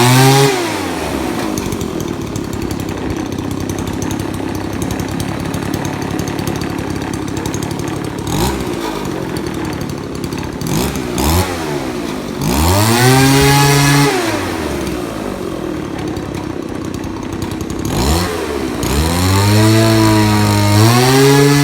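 A 25cc weedeater engine spinning a propeller, loud and close, droning at steady revs with several sharp rev-up and drop sweeps in the second half, no voices.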